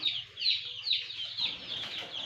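Silkie chicks in a brooder peep in a steady, high-pitched chorus of short repeated chirps, close and fairly loud, with a low hum underneath.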